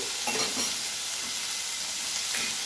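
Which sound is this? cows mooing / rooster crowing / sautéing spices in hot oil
sautéing spices in hot oil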